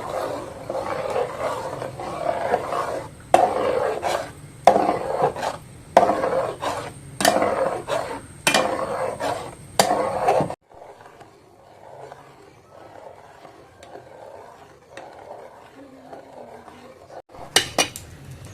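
Thick jackfruit payasam is stirred in a pot until it dries, with repeated loud scraping and knocking strokes of a spoon against the vessel for about ten seconds, then near quiet, and a last short burst of clatter at the end.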